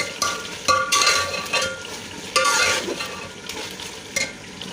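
A tomato masala with turmeric, black pepper and salt is stirred in a pan for green chicken, giving a soft sizzle under bursts of spoon scraping and clinks against the pot, with no voices.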